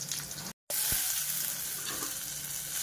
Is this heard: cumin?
yes